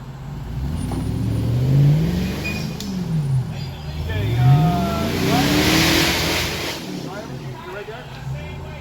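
A Jeep engine revs and labors in rising and falling surges as it climbs a rock on an off-road trail, close and continuous, with people talking over it.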